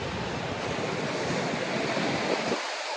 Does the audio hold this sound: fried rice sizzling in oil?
no